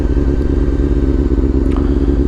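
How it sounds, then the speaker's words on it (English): A motorcycle engine runs steadily and loudly while riding through deep sand on the way to a beach, a continuous low rumble with faint clatter and no pauses. "giving it enough throttle gas play to actually make it without crashing"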